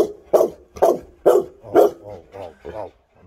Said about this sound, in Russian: На кого ты гавкаешь?